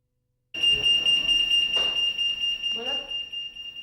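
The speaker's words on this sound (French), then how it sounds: "Une alarme se déclenche à l'heure en salle technique." A steady high-pitched electronic alarm tone starts abruptly in the technical room of an air traffic control centre and keeps sounding continuously, with a couple of brief clatters underneath.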